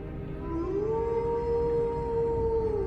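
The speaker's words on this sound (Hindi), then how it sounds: "बाहर से एक लोमड़ी की रोने की आवाज आई" A fox cries out from outside the house in a horror story: one long, eerie howl that slides upward and then holds a steady, wavering pitch for about two seconds over a faint background hum.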